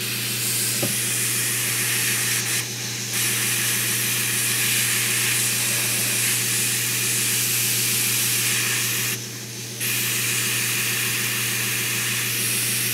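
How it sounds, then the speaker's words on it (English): A steady, continuous hiss of an airbrush spraying paint on a 1/4-scale figure runs throughout, with two short breaks where the spray stops briefly before resuming. "What I would like to do is get my airbrush to spray."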